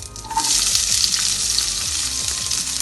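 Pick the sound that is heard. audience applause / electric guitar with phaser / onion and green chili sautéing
onion and green chili sautéing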